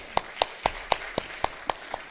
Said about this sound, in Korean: 우리 축복하는 의미에서 우리 격려의 박수 한번 하겠습니다.